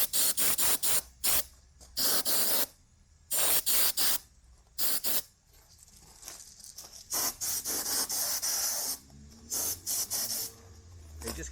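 Short bursts of compressed air hiss in repeated blasts, roughly a dozen of them, blowing dust off a car headlight outdoors in the shade, with quiet gaps between each spray.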